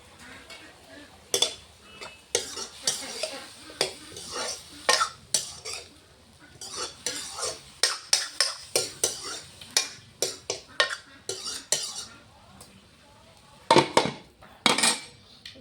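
Eggplant and potato pieces being stirred in a frying pan, with a utensil repeatedly clinking and scraping against the metal in irregular bursts. A faint sizzle sits underneath, heard close up.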